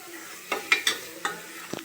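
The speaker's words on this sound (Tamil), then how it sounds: "இந்த சாம்பார் பொடி வாசனை போகிற வரைக்கும் நம்ம வதக்கணும்" Vegetables sautéed with sambar powder in a pan, heard as a faint sizzle with several quick stirring scrapes and clinks close by.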